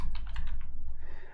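Fingers type on a computer keyboard in a quick run of close, crisp key clicks over a low background hum, with no voices.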